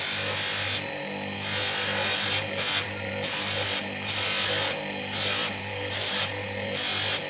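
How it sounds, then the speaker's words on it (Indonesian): A handmade copper and brass ring being polished by hand, heard as a series of short, close rubbing strokes in a steady back-and-forth rhythm with brief pauses between bursts. "Kita terus poles seperti ini."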